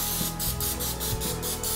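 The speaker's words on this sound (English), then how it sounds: "I use a olive oil Pam cooking spray, non-stick to add" Olive oil Pam non-stick cooking spray hisses onto a pizza crust in a quick series of short bursts, close and clear.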